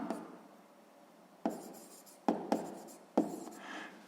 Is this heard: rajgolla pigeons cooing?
no